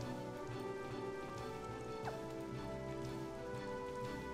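Steady rain pattering in the Another Eden video game, a continuous soft hiss of drops layered over a quiet, sustained musical drone, with no one speaking.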